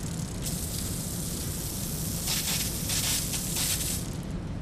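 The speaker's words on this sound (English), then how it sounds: "just pedal the bike backwards and spray your chain" A steady hissing spray of thin oil onto a bicycle chain runs in short sustained bursts against a soft background rush, close and moderately loud.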